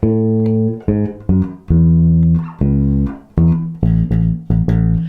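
A bass guitar plays a short melodic phrase of plucked notes, several quick repeated pairs, clear and close with no voices.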